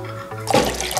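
Honey and soy sauce poured into a large pot, a short liquid splash and gurgle rising midway and continuing to the end over a low hum.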